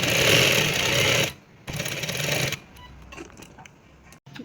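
A sewing machine runs fast and steadily while it stitches dori piping lace onto a dress, then stops briefly and starts again in a second shorter burst, followed by quieter handling noises.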